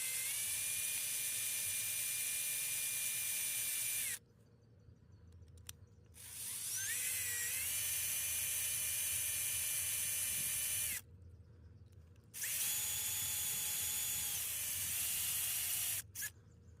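Power drill spinning off wheel lug nuts on a 1983 Chevy: a loud, close, high whine that runs in three long bursts, its pitch shifting as the load changes, with short quiet gaps between.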